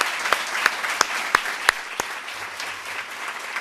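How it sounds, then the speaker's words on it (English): Scattered clapping from a small group at a luncheon, with a few sharper individual claps standing out near the start before the applause thins out. "Can we please have a big round of applause for our 3 speakers today?"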